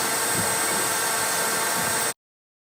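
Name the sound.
vacuum cleaner running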